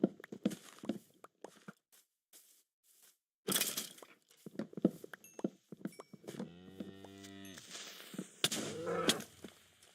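A Minecraft cow is struck and dies: a scatter of thumps and footstep crunches, then a loud, drawn-out moo-like groan, followed by more clattering game sounds with quiet gaps between them.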